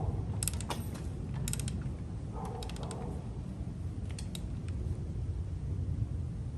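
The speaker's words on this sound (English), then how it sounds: "I got my torque wrench. This is my big torque wrench." A large torque wrench tightens a frame bolt on a 1987 Monte Carlo SS to 40 foot-pounds, making short bursts of ratcheting clicks over a steady low room rumble, close by and with no talking.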